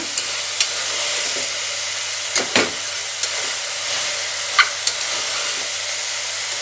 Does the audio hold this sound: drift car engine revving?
no